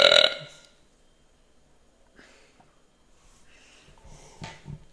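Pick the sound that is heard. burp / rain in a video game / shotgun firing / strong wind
burp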